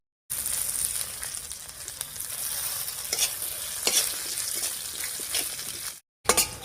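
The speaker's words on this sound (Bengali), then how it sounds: "এবার এর মধ্যে 1 চামচ কালো জিরে দিয়ে দিচ্ছি" A teaspoon of black cumin seeds fries in oil with garlic and green chillies, giving a steady close sizzle with occasional sharp pops and stirring scrapes, cut by a short silent gap near the end.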